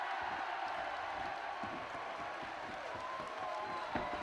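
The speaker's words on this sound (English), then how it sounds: "listen to this crowd" A wrestling arena crowd at a tag team match cheers and applauds steadily at a constant moderate level, a broad wash of noise with one brief louder swell near the end.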